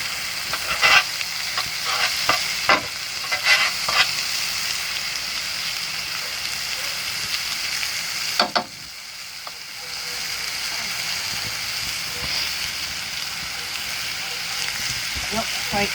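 Potatoes and onions fry on a hot Blackstone griddle with a steady, close sizzle. Scattered clicks and scrapes from stirring cut through it, and the frying dips briefly about halfway before settling back into an even hiss.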